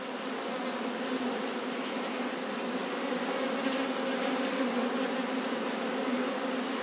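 Honey bees buzzing at a hive while working hawthorn blossom; a dense, continuous, close drone of many wings holds steady throughout without any talk.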